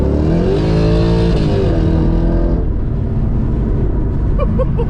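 A Kenne Bell supercharged Ford Mustang GT with a six-speed gearbox revs hard under acceleration, a loud rising engine note that drops sharply as it downshifts, then settles into a rougher, lower rumble.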